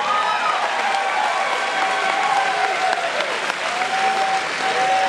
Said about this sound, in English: let's give these two a round of applause